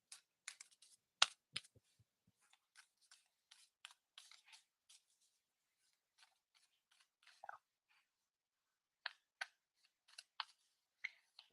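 Tarot cards being shuffled, soft scattered clicks and flicks of card edges coming in short irregular bursts with quiet pauses between them, close and faint, with no talk.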